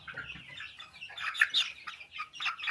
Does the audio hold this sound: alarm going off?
no